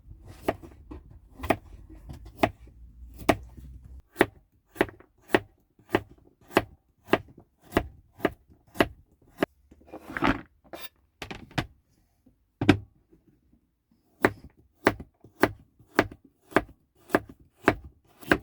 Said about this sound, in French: Toutes les carottes sont pelées et maintenant, on va les couper donc en rondelles.